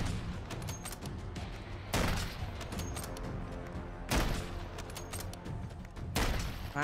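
Sniper gunfire in Modern Warfare III Zombies: three sharp, loud cracks spaced about two seconds apart, each ringing out over a low, steady game background, with no talking.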